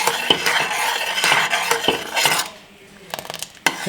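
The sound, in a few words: stirring custard so it does not stick to pot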